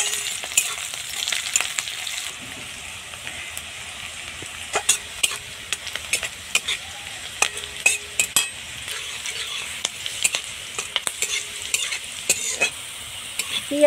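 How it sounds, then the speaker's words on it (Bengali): Onion, cumin, green chili and crushed garlic fry in hot oil in a pan, a steady close sizzle broken by frequent sharp scrapes and clinks of a metal spatula stirring against the pan. "তেলের উপর দিয়ে দিলাম পেঁয়াজ, দিয়ে দিলাম জিরা কাঁচা লঙ্কা, দিয়ে দিলাম থেতো করা রসুন"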